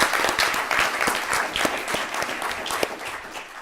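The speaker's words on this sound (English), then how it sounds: "Let's give a round of applause for her" Audience at a Krum ISD school board meeting in Krum, Texas, claps steadily for a staff honoree, a dense round of applause filling the room from start to finish with no speech over it.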